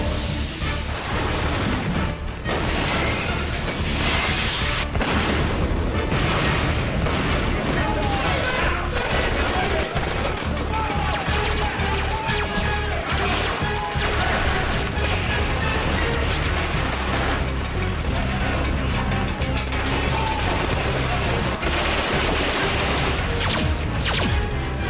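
Battle din of weapons fire and explosions as Sontarans clash with UNIT troops, a dense, loud, continuous barrage of gunfire and blasts with shouted voices mixed in throughout.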